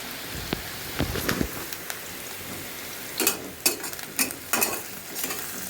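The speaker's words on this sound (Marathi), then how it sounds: "काही चांगलं लालसर होईपर्यंत भाजत होत आलं आहे, जवळजवळ भाजलं आहे" Spices with asafoetida roasting in a pan, soft crackling and sizzling with scattered stirring scrapes, louder bursts of spatula strokes toward the end.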